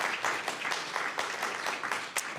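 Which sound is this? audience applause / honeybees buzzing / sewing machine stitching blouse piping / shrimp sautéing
audience applause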